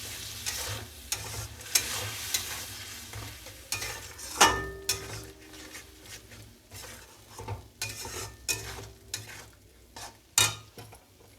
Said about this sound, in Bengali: এবার কষতে হবে।